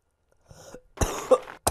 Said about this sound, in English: And I'm coughing now.